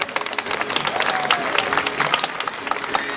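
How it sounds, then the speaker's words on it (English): An audience at a tiger show applauds, a steady wash of many hands clapping at moderate distance with a few cheers mixed in. "How about a round of applause for Akasha?"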